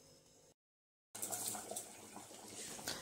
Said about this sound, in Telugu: నీళ్ళు అయితే మంచిగా మరుగుతున్నాయి